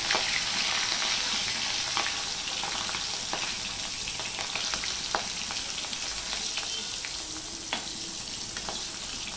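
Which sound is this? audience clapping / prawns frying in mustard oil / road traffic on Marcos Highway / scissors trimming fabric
prawns frying in mustard oil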